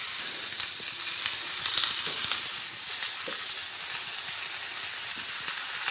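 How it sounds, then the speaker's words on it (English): Cured bacon sizzling in a hot griddle pan, a dense, steady crackling hiss with tiny spits and pops, close and continuous with no talking. "get the sizzle going"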